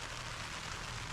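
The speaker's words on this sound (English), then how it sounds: "it's day 3 and it's raining again" Steady rain patters on a surface nearby in Borrowdale, England, in the early morning, a soft continuous hiss with no voices.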